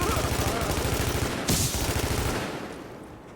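Rapid automatic gunfire rattles almost without pause in the video game The Division, with a sharp blast midway before the shooting fades out toward the end.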